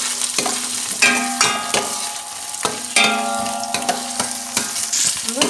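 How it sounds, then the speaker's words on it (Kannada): Onion and curry leaves fry in oil in a kadai, loud close sizzling broken by repeated scraping stirs of a spatula at an uneven rhythm, with no talk. "ಮತ್ತು ಸರಿ ಫ್ರೈ ಮಾಡಿ"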